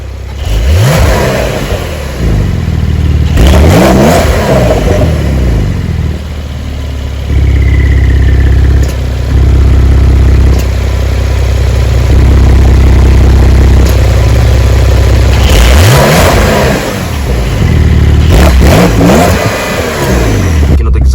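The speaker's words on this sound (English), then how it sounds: "you have the option to actually set up how you want your exhaust tip to sound like" A 2020 Porsche 911 992 Carrera S engine revving with its exhaust, loud rising and falling throttle blips near the start and end around a sustained high-rpm drone in the middle.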